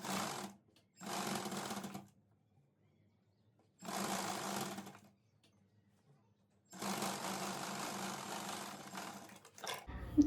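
Sewing machine stitching pleats on a salwar, in four short runs of rapid, steady whirring with quiet gaps between, close by and fairly soft.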